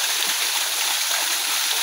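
Waterfall in a high spot near Calauag, Quezon, pouring steadily: a dense, continuous broadband roar of rushing water, close and even in loudness throughout, with no voices.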